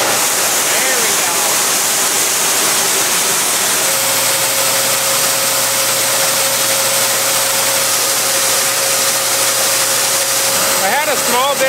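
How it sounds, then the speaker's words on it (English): Water gushes out of a wash bay drain in a loud, steady broadband rush that fills the whole stretch, with a low machine-like hum running underneath. "Hope everything starts, the drain should start coming out shortly."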